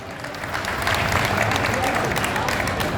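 A burst of enthusiastic applause from a crowd at a Hindu temple gathering, steady and sustained throughout, with faint voices mixed in.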